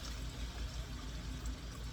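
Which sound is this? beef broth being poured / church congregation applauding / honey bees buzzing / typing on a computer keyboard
beef broth being poured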